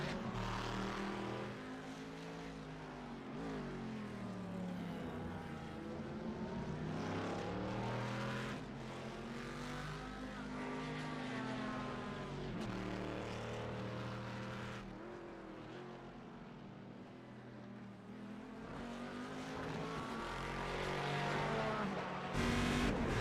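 A GT1 race car chases a GTE Corvette down the Interlagos front straight, its engine note climbing and dropping through repeated gear changes as another engine's tone sweeps past, loud and continuous, with no talk.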